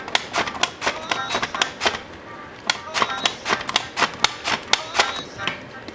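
Blade slicing raw cassava into thin chips on a mandoline-style cutter, a close, regular train of sharp crisp clacks, roughly two to three per second, with no talk over them.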